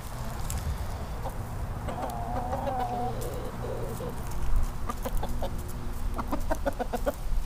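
Hens and a rooster cluck and chatter at feeding time, with repeated short calls and a few louder squawks close by over a steady low background hum, no talking.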